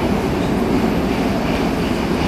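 A Moscow metro train runs past during a city-day parade of trains, a loud, close, steady roar of wheels and rails that fills the whole stretch without a break.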